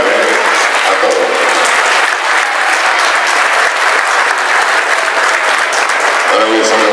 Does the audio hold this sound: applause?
yes